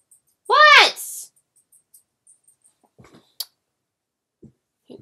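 Dog giving a single sharp, rising whimpering yelp up close, followed by near silence with faint scattered rustles and small sounds.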